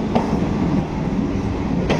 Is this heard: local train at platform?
yes